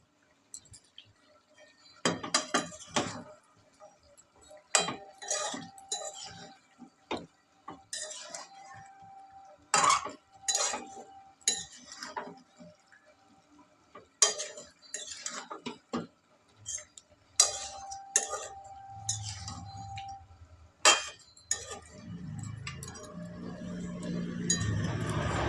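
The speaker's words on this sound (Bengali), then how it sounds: "ক্যাপসিকাম দিয়ে নেড়ে চেড়ে" Capsicum chicken is stirred in a pan with a metal utensil, making irregular clinks, taps and scrapes against the pan in quiet bursts, with a faint sizzle rising near the end.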